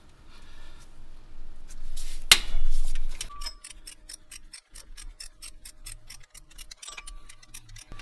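Rapid ratchet clicking while a 14mm bolt comes off the alternator of a 2005 Nissan VQ40 V6 engine, with a sharp snap early on, then a steady run of close, crisp ticks.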